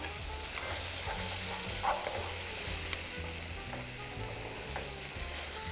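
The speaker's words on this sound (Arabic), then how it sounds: "حركوا كل شيء مع بعضه." Pasta with vegetables and shrimp sizzles steadily in a pan while being stirred, with occasional scraping and clinks of the utensil, close and continuous.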